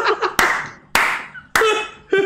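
Four sharp, loud claps ring out at a steady interval of roughly half a second, close and dry, with brief voiced sounds between them.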